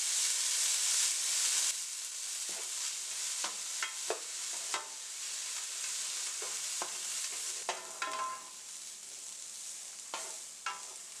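Chopped carrots and frozen green peas fry in oil for shrimp fried rice, a steady close sizzle broken by repeated clinks and scrapes of stirring, with no talking.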